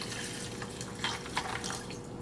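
Water pours steadily from a tap into a cooking pot for eggs, a continuous close splashing rush that stays even throughout.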